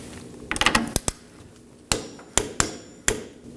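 Sharp metallic clicks and knocks from a wrench snugging a 16mm rear shock absorber nut on a 2018-2024 Chevrolet Equinox, several separate close impacts spaced irregularly with quiet between them.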